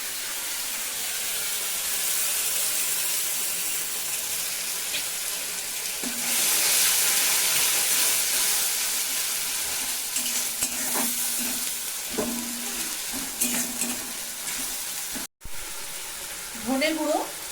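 Tomato paste sizzling and frying in a pan for Bengali-style rui fish kalia, a steady close hiss with stirring scrapes, and a voice speaks briefly near the end.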